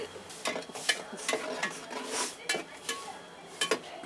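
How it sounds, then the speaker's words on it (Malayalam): Turmeric, chilli and coriander powders sautéed in a pan in a toddy shop kitchen, with a soft sizzle under irregular metallic scrapes and clinks of a ladle against the vessel, fairly close. "ആദ്യം മഞ്ഞപ്പൊടി ഇട്ട് കുറച്ച് നന്നായിട്ട് വഴറ്റി എന്നിട്ട് ശേഷമാണ് മുളക് പൊടി ഇട്ടിട്ട് വഴറ്റുന്നത്."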